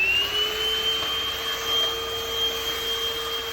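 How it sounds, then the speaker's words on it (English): Ljuren cordless stick vacuum cleaner running steadily on a hard floor, a close, loud, continuous motor whine with a high tonal pitch that holds constant throughout, heard alone. "Lightweight cordless vacuum. It's doing a good job."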